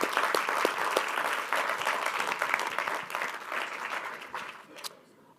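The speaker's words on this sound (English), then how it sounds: "Ladies and gentlemen, a round of applause for the South Africa team." Audience at a corporate capital markets event applauding a team, steady dense clapping across the room that tapers off near the end.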